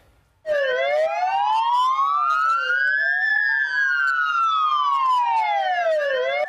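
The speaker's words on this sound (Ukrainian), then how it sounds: "Сирена з півтора десятка гучномовців востаннє лунає" A wailing siren from about fifteen loudspeakers rises and falls in long sweeps, loud and continuous, with a slightly layered, echoing quality.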